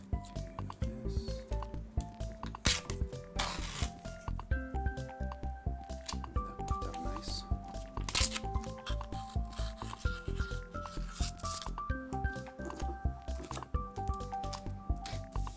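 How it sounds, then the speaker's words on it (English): Masking tape is pressed and rubbed onto a wooden floor sample being made into a peg game, giving repeated squishy rubbing and sticky pulling sounds close up under steady background music. "we'll start getting some masking tape on this guy to protect it"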